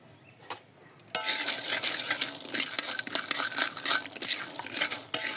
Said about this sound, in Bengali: এই যে বাদাম আর কাজু বাদাম ততক্ষণ আমি ভেজে নিব